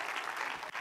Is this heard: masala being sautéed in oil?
no